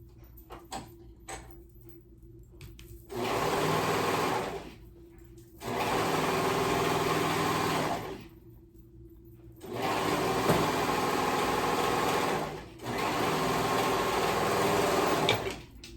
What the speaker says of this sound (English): And I'm going to sew that up.